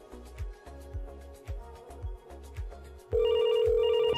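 During a VoIP call test on a FreePBX server, a quiet repeating thump pattern gives way to a telephone ringing, a steady electronic ring tone that starts partway through and continues.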